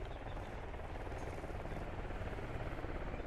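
Helicopter in the military shooter game Squad, a steady rotor-and-engine drone that fills the whole stretch at moderate level, close and continuous, with no talk over it.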